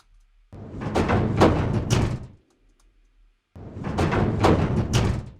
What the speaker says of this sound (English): Okay, so all just different drawer type sounds.